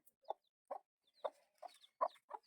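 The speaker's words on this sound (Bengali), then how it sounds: "এই দেখো তো মুরগি ছোট ছোট ছানা হয়েছে" A hen with small chicks makes a series of short, evenly spaced clucks, about seven soft calls in quick succession, fairly close against a quiet background.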